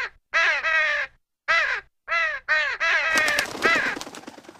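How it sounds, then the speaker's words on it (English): A crow caws loudly and close, several harsh separate calls in an uneven series, the last ones running together into a ragged squawk with rustling noise. "Crows are an amazing animal"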